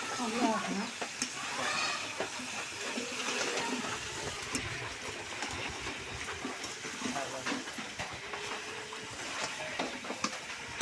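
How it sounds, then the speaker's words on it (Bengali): Meat and potatoes stir-fried in a pot, a continuous close sizzle with scattered scraping and clattering stirs over about ten seconds, a faint voice briefly in the background. "আবার ঢাকা দিয়ে দিব, আলুর সাথে একটু কষে নিব।"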